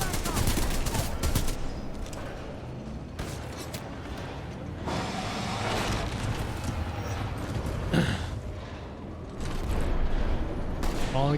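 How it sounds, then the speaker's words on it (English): Spitfire gun firing in the Apex video game, with long rapid bursts of automatic fire that break off and start again, loud and close, mixed with other game noise and some talking. "So this gun is an Apex, the Spitfire."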